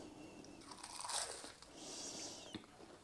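Biting into a crunchy, flaky curry sausage roll gives close, crisp crackling and crunching bursts that settle into softer chewing, with no talking.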